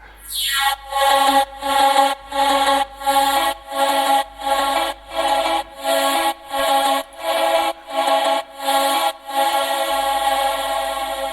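A drawn-out, heavily reverberant vocal drone pulses in a regular chopped rhythm, about a dozen swells, before settling into a continuous wash.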